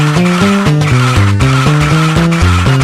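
In a cartoon video game, a car drifts with loud, harsh tire screeching and skidding. The sound stutters in repeated steps and fills the whole clip.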